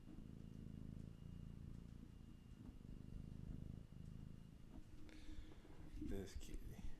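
Baby Lux, a pet cat, purrs steadily at close range, a low continuous rumble with some movement near the end and no talk over it.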